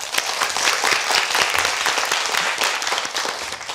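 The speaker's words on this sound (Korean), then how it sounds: "박수로 청해 보겠습니다" A studio audience on a Korean TV quiz show gives steady, moderately loud applause, a dense patter of many hands clapping for a few seconds before a contestant's presentation begins.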